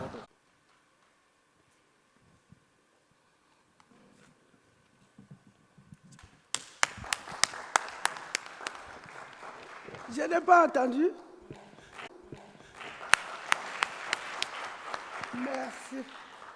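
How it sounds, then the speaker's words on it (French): After a long near-silent pause, scattered claps rise from the audience at a general assembly of an African biosphere reserves network in Rwanda, with a short spoken remark between two sparse bursts of moderate, uneven clapping. "Et nous les autres, nous applaudissons quand même."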